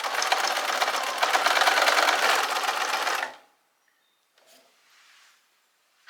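A sewing machine stitches a zigzag, running steadily for about three seconds with a fast, dense mechanical whir, then stops, leaving near silence with a couple of faint rustles.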